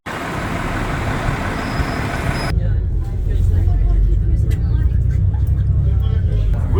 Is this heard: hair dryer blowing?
no